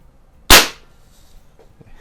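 A single sharp report from a Sheridan EB20 or Crosman 2240 CO2 pistol fired outdoors, loud and close, with a quick decay and faint background noise afterward.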